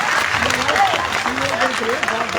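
Audience clapping at a village gathering, a steady wash of many hands that runs under a voice speaking over it the whole time.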